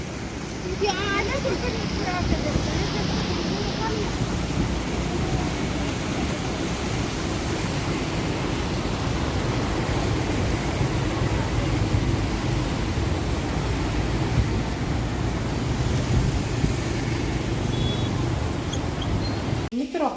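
A strongly flowing river near Jamnagar rushes past in a steady, dense roar of water that holds at an even level from start to finish, with no clear breaks.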